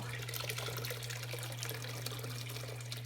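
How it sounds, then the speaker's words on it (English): Boiled water poured from a kettle into a sink, a steady, dense splashing stream over a constant low hum, moderately loud and uninterrupted, with no talking. "I also have a kettle right here of some water that I boiled, and I'm gonna pour it in as well"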